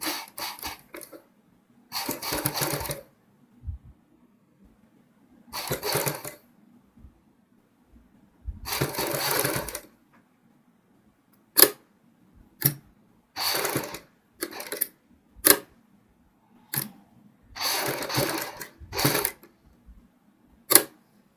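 A sewing machine stitching a kurti runs in short separate bursts, some a second or longer and others quick clattering jabs, each followed by silence, close and clear with no talking.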